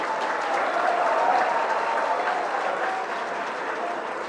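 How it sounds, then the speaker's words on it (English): At a business school commencement ceremony, a large audience applauds a student from Uganda with steady, dense clapping and faint crowd murmur, sustained throughout. "So give a big applause to that student."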